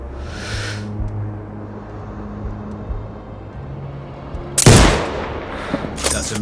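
A single sharp, loud sniper rifle shot in Sniper: Ghost Warrior Contracts 2 breaks a low ambient hum, followed by a few fainter cracks and echoes.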